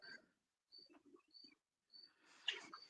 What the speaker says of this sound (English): These fucking happy birds around here,